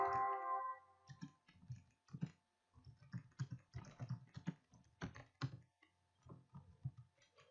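Keystrokes patter on a computer keyboard in short irregular bursts of close clicks, quiet and alone after a brief tone at the start.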